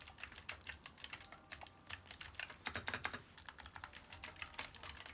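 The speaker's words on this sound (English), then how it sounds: "We got the mechanical keyboard hooked up, so exciting." Fingers typing on a mechanical keyboard, a quiet continuous patter of clicky keystrokes in uneven bursts with brief pauses, no voices.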